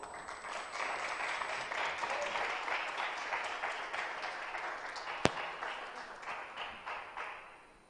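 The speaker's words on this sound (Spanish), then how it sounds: "Lo recibimos con un fuerte aplauso." An audience at the launch of a new album by an Andean group welcomes the charango player with a steady wash of clapping, a single sharp click near the end before the applause tapers off.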